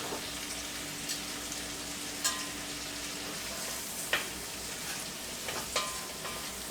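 Cajun Creole zucchini frying in a pan, giving a steady close sizzle with a few brief clinks and stirring sounds layered on top.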